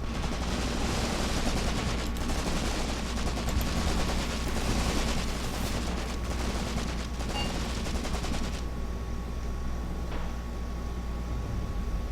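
Heavy, continuous gunfire in the WWII tactical game Graviteam Tactics: Mius Front, dense bursts of machine-gun and rifle shots layered over a constant low rumble, easing slightly toward the end with sparser cracks.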